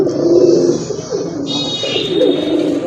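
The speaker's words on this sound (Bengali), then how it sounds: "খুব ভালো ডাকে কবুতর" A black-and-white pair of Rajgolla pigeons coos in low, throaty pulses nearby, alongside a thin high whistling tone.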